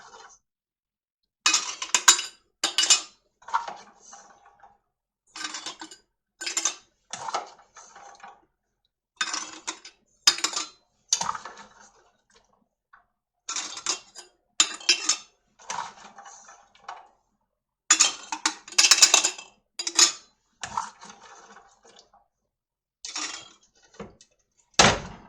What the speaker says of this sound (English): we are going to add 1/2 cup of our soaked and parboiled beans